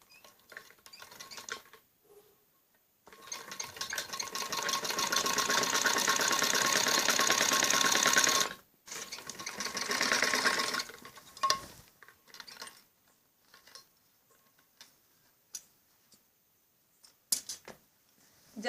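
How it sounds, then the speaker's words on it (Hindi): A sewing machine stitches the back neck of a kameez, sewing the fabric close against buckram in a loud, rapid run of about five seconds, then shorter bursts and scattered taps and clicks, with no talking. "सिलाई कपड़े पर लगानी होती है बुकरम के बिल्कुल सटा के।"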